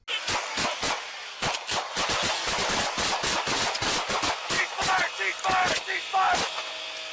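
Gunfire captured on police body camera audio during a traffic stop in Farmington, Utah: a long, rapid volley of sharp, loud reports, some overlapping, coming in dense irregular bursts and clusters.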